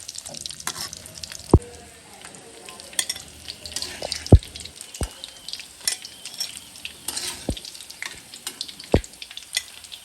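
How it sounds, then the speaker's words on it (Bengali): Chicken donuts fry in oil at home with a steady, close sizzle, broken by a few sharp clinks of a utensil against the pan. "কত সুন্দর করে ভাজা হয়ে গেল বাসায়, একদম অল্প চিকেন।"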